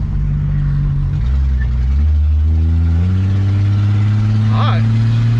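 A 1962 Ford Falcon Tudor, rescued after sitting abandoned, pulls away and shifts from first into second gear. Its engine drones loudly and steadily, dips briefly at the gear change, then climbs again, with a voice calling out over it.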